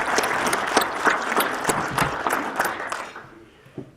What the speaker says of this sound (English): Give him a hand of applause anyway.